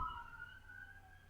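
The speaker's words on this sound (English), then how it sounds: "Sirens going by." A siren wails faintly in the distance, its tone sliding slowly downward as it passes, with no talking.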